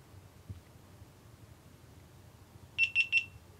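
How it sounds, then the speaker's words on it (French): A GoPro Karma Grip gives three quick, evenly spaced high beeps as its calibration finishes, clear against near silence with faint background hiss. "on a entendu les bips qui montrent que la calibration est terminée"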